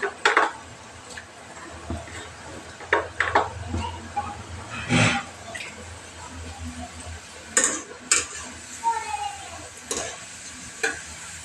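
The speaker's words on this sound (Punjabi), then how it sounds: "ਤੇਲ ਆਪਣਾ ਗਰਮ ਹੈਗਾ ਤੇ ਆਪਾਂ ਉਹਦੇ ਵਿੱਚ ਇਹਨਾਂ ਨੂੰ ਤਲ ਦੇਾਂਗੇ" Vegetable pakoras fry in hot oil in a wok, giving a soft sizzle broken by sharp clinks and scrapes of a stirring utensil against the pan, in scattered bursts with quieter gaps.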